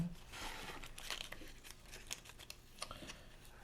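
Paper transfer tape for a Cricut cutting machine being handled, giving soft crinkling and crackling with scattered sharper rustles, close and fairly quiet, with no voices.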